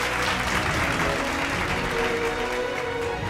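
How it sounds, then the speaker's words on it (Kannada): Audience applause at a prize distribution event in Mandya, a dense, steady wash of clapping that stays loud and even from start to finish, with no voices standing out above it. "ಜೋರ ಚಪ್ಪಾಳೆ ಬರಬೇಕು CRMsಗೆ"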